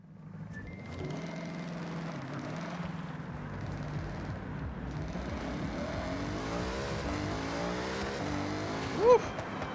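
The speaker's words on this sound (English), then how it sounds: "That's pretty high performing for just a regular street car with very, very little upgrades." A lightly upgraded regular street car in the Forza Horizon racing video game, its engine droning and rising through revs with shifting tones, followed by a short sharp burst near the end, no talking.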